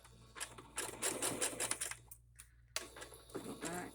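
Sewing machine running a zigzag stitch on fabric scraps, a close rapid mechanical chatter that stops briefly, then starts again, with no talking over it.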